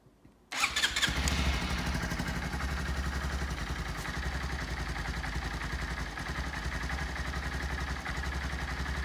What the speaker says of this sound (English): I'm gonna start it up and let you guys listen to the motor now